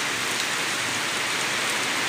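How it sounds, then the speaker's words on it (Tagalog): Heavy rain pours in a dense, continuous roar, loud and close on a surface, with no breaks and no voices. "Ala, grabe ulan."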